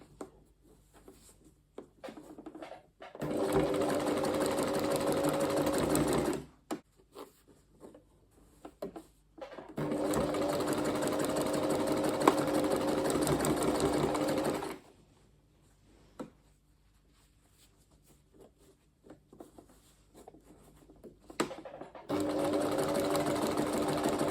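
A sewing machine stitches fabric in three long runs of steady, rapid mechanical whirring, separated by quiet pauses with small handling clicks.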